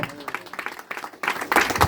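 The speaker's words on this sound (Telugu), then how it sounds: "చప్పట్లు కొట్టండి గట్టిగా" A church congregation claps hands loudly, a burst of dense, close applause that swells in the second half and follows a preacher's voice.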